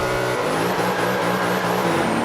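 Several racing cars, including a Nissan Skyline, roar off together at the start of a video game race at Sebring, with a dense, steady engine drone and high whine holding loud throughout.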